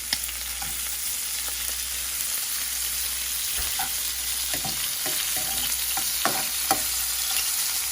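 Jumbo black tiger shrimp fry in sauce in a hot pan, giving a steady loud sizzle with scattered pops and soft scraping knocks as the shrimp are flipped.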